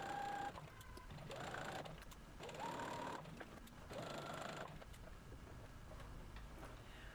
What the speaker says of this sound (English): I'm going to stitch just a little bit on the inside of that line that's already there for me